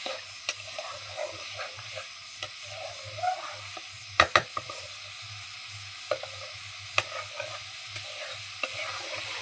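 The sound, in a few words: masala roasting and stirred in a pan for egg curry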